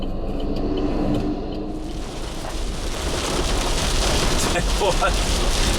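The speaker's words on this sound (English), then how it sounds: "it's always fun to play in puddles" A 2014 Holden Colorado 7 4WD ploughs through puddles off-road, throwing a loud, continuous rush of spraying water and splash that swells and churns over the engine noise for several seconds.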